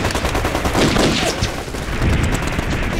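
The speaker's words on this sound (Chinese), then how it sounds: "枪声乱着呢，从打法就能看得出来，他们都是熊猫" Dense, chaotic rifle and machine-gun fire from a battle in a Chinese anti-Japanese war drama, a continuous loud rattle of overlapping shots with no pauses.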